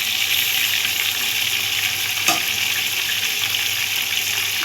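Chicken frying in a pan sizzles with a steady, loud broadband hiss throughout, with one brief clink partway through and no voices.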